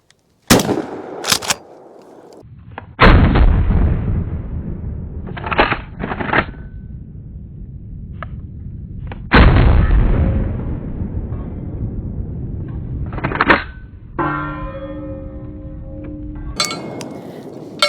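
Heavy booming blasts from a Benelli Nova 3.5-inch pump shotgun firing Remington Nitro Turkey loads with two ounces of number 5 shot, with several loud reports spaced seconds apart, and pump-action clacks and ringing echoes between them outdoors at a range.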